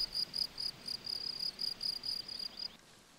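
Crickets chirp in a meadow in quick, evenly pulsed bursts, a bright repeating trill that stops abruptly near the end, leaving quiet.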